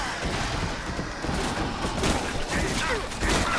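Shotgun fire in Dead Nation on PS4 at a trainyard, dense booming blasts and thuds in close succession amid chaotic game noise.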